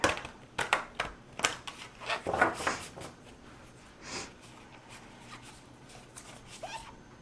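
Tarot cards are shuffled up close in several quick riffling bursts, which thin out to softer handling noises toward the end.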